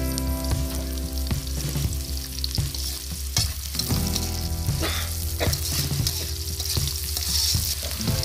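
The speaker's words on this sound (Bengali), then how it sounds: "আমরা কড়াইয়ে তেলের মধ্যে পেঁয়াজ এবং কাঁচামরিচ দিয়ে দিচ্ছি।" Onion and green chilli frying in oil in a wok, a steady loud sizzle with scattered stirring clicks and scrapes running throughout, no talking.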